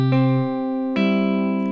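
Two plucked guitar notes or chords ring out close by, the second struck about a second after the first, each sustaining clearly with no talking.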